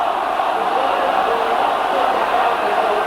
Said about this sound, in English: Players getting cheered off the pitch.